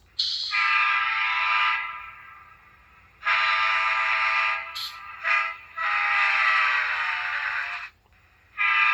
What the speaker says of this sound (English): I want to let people listen to the horn on this one, which is a standard K5 LA